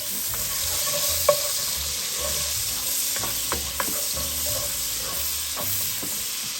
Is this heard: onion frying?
yes